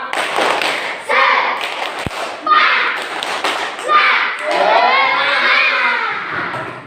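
A school class performs a rhythmic clapping chant as an ice-breaker, groups of handclaps and thumps alternating with children chanting together in unison, loud and close.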